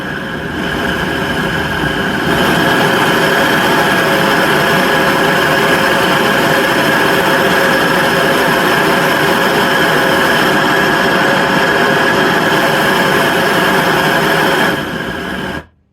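A propane and compressed-air torch, converted from an oxy-acetylene setup, burns with a loud, steady, close roar that rises after a couple of seconds, holds evenly, then stops abruptly near the end.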